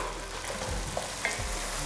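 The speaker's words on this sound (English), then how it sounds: "Just going to give this another stir." A vegetable sauce sizzles steadily in a pot on the stove while a spoon stirs it, giving a constant close frying hiss broken by a few soft scraping knocks.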